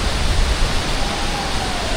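Loud, steady roar of the Ghorle waterfall at Panchkhapan, a dense continuous rush of falling water close by, with no voices.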